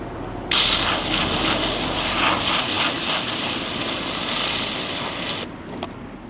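Strong gushing water from a tap or hose rinses paint off scrubbed parts, a loud, steady rush that runs for about five seconds and then cuts off abruptly, with no talking.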